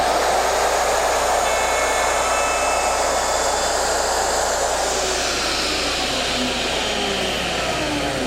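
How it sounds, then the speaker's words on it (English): A Porter Cable router cuts a dovetail joint in an Omnijig template. It gives a loud, steady, high motor whine with a broad hiss of cutting, unbroken from start to finish with no voices. "Wait till the router comes to a complete stop before removing it from the template"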